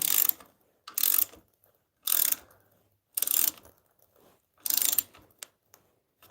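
A clamp being tightened during copper knife-scale work, giving five evenly spaced bursts of close mechanical ratcheting with near silence between them.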